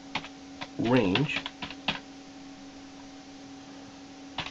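Code is typed on a computer keyboard in scattered, crisp key clicks over a faint steady hum, with a short spoken word breaking in between the keystrokes.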